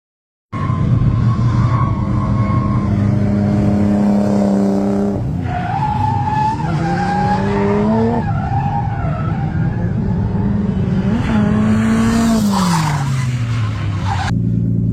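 A race car laps the Club Circuit at the Summer Bash 2024 meet. Its engine roars loudly up close, and the tyres squeal and skid in long wavering whines through the corners.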